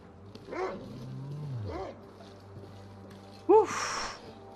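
A wolf in the survival game The Long Dark gives a few short growls and barking yelps, one louder near the end, with a low drone under the sounds.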